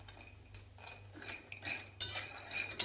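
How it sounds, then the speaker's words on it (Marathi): Peanuts dry-roasting in a pan for sabudana khichdi rattle and scrape as a spoon stirs them, giving faint, irregular clinks and scuffs that build to a few sharper strokes near the end. "इथे शेंगदाणे भाजून घ्यायचे"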